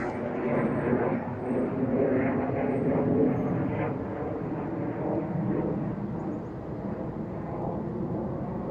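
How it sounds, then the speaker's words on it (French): Propeller-like drone of an airplane passing overhead, a steady broad rumble that holds at moderate loudness for several seconds, swelling slightly midway, heard alone without speech. "il y a un avion qui passe juste au-dessus"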